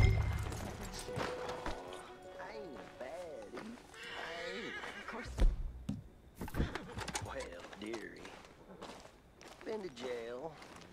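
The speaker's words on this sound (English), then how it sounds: "Ahí está el caballo, ¿eh?" A horse in the Red Dead Redemption 2 video game whinnies and snorts among hoof clops and footsteps, while in-game characters talk loudly over it throughout.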